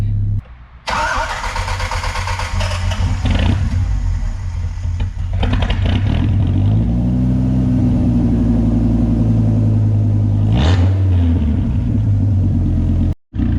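A Dodge Viper RT/10's V10 fires up with a sharp burst, then rumbles loudly nearby, swelling in a rev before settling back before cutting off abruptly.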